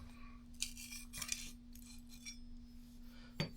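The blade of a Bedrock No. 5 hand plane is stropped in a workshop, giving several short, quiet scraping strokes at an uneven pace over a steady low electrical hum.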